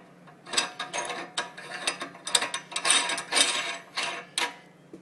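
A locking ring is screwed onto a LEM meat grinder head, giving a close series of short metallic ratcheting, scraping bursts in an uneven rhythm, alone with no talk.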